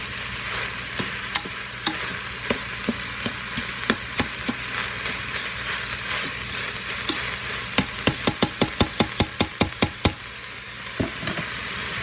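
Ground meat with onions and peppers browns in a pot, a steady sizzle under repeated scraping clicks of a spoon stirring, the strokes quickening into a fast burst near the end, close and with no talk.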